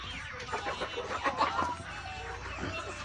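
Laying hens cluck softly in a continuous murmur of short, overlapping calls at close range while feeding.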